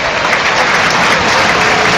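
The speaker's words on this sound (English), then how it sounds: "there's the applause in the City ground, and a standing ovation as well from the home support" Home supporters at the City Ground football stadium give a standing ovation, a loud, dense wash of clapping and crowd noise sustained evenly throughout.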